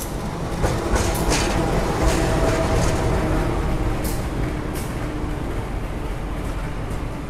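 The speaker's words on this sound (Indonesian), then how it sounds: "kereta api Kertanegara dengan kelas ekonomi dan eksekutif" Kertanegara train with economy and executive class carriages pulling in, a steady, loud rumble with clickety-clack from the wagons running close by throughout.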